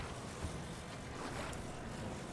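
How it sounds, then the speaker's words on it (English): Stormy wind and rain in Zelda: Tears of the Kingdom, a steady broadband rush and hiss with low rumble holding at an even level throughout, with no talk over it. "it's pretty windy over here by me. Of course, with some rain too"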